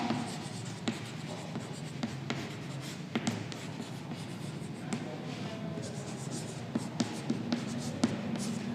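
A pen writes a date on paper, a steady close scratching with small taps and strokes running continuously under a faint background hum.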